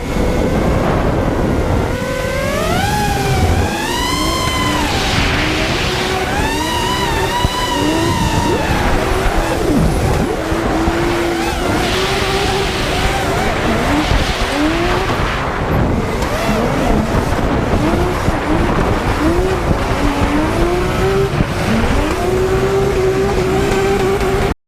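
A GTI Mark V races in the CarX driving game, its engine revving up and down through repeated gear changes while tires squeal and skid through corners, loud and continuous.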